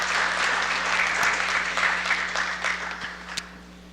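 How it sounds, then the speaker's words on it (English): An audience gives a speaker a round of applause at a formal event. Dense, even clapping from many hands lasts several seconds and thins out slightly toward the end, with no talking. "Let's give him a round of applause."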